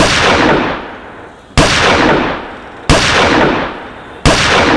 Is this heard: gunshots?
yes